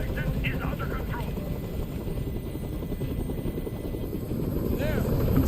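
A helicopter's rotor thumps continuously close by in the video game Detroit: Become Human, steady and loud, growing a little stronger toward the end, with brief voices over it.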